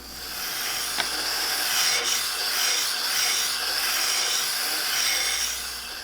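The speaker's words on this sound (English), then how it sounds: "then finish it up with a small disc sander to get the ends precisely angled" A small disc sander grinds the ends of cherry wood pieces to a precise angle, producing a steady abrasive rubbing hiss that swells and eases over several seconds, heard close with no talking.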